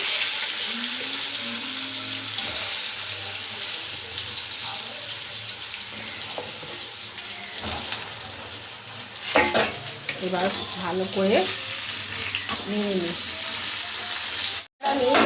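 Round slices of ridge gourd frying in hot oil with whole spices, a continuous loud sizzle with scraping stirs and clinks of a spatula, and a few short spoken words over it.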